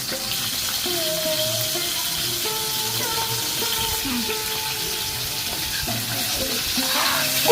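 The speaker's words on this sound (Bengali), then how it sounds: "এখন গরম তেলে মাছগুলো দিয়ে দেব।" Fish pieces frying in hot oil produce a constant, close sizzle with scattered clinks and scraping, running evenly throughout with no speech.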